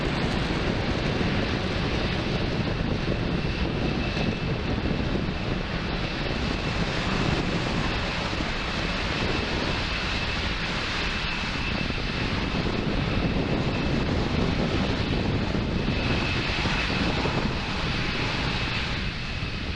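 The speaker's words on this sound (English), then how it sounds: "Falcon 9 clearing the tower at Space Launch Complex 40 and making its way to orbit" A SpaceX Falcon 9 rocket climbs away from Space Launch Complex 40 on the Transporter-6 mission with a loud, continuous broadband roar that holds steady throughout, mixed with wind buffeting on the microphone.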